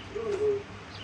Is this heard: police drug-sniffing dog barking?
no